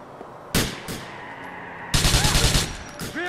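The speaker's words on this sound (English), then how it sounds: "a bunch of goons shooting up her son's funeral" Gunfire in the video game Grand Theft Auto IV during a street shootout at a funeral, with a sharp single blast followed by a loud rapid burst of shots.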